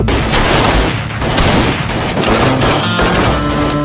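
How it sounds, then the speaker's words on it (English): Loud, dense bursts of gunfire, rapid overlapping shots rolling on continuously with booming low echoes. "Gunfire shattered the cold silence."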